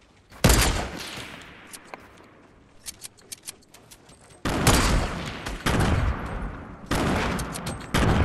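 Gunshots in Fortnite crack out as several sharp single shots and then longer loud bursts of rapid fire, some near and some more distant, with quiet gaps between volleys.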